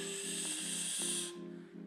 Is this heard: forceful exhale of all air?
yes